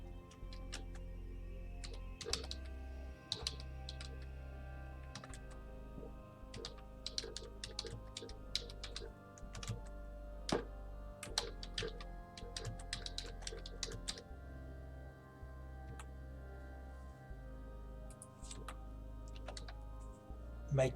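Steady typing on a computer keyboard, a run of crisp, close key clicks in uneven bursts over a low hum, with no one talking.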